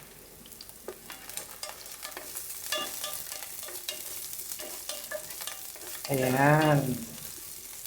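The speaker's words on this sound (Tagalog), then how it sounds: "naglagay ako ng konting mantika, pagkatapos ilalagay natin yung ating hiniwang sibuyas" Sliced onions fry softly in a little oil in a pan for an egg and bell pepper breakfast, with a faint crackle and occasional utensil clinks, then a brief louder tonal sound near the end and a short spoken word.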